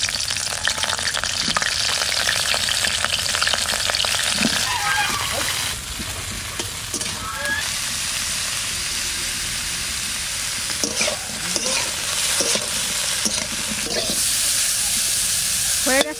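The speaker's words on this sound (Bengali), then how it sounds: "সব রকমের সবজিটা একটু ভেজে নেব" Vegetables including potato and cauliflower sizzling in mustard oil in a pan, a steady frying hiss broken by repeated stirring and scraping, with a few short clatters and some background voice.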